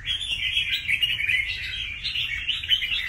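Steady, close chirping and warbling from a caged red-whiskered bulbul, a one-month-old wild-caught bird, running on without pause and fairly loud throughout.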